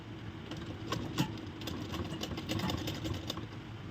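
A sewing machine stitches the round seam of palazzo pants with a half-inch allowance, giving a steady fast mechanical whir and ticking. The sound is continuous, close and moderately loud, and no one speaks.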